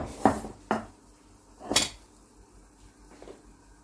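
A baked Turkish perde pilaf, rice in a pastry crust, is turned out of its pan, with a few close metallic knocks and clatters of the pan and utensils against a surface.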